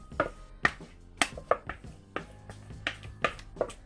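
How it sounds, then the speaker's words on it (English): A ricotta, sour cream and Parmesan mixture with seasonings being mixed into pasta for baked ziti, heard as a series of close, sharp scraping and clacking hits of a utensil against a pan or bowl at an irregular pace. "Throw it in, and we're gonna mix it up."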